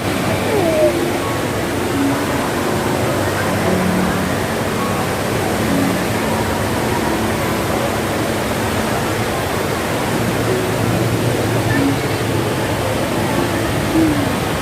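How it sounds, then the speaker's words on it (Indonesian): The waterfall at Jewel, Singapore Changi Airport, gives a loud, steady, unbroken roar of falling water that fills the whole stretch without pause. "Oh, air terjun."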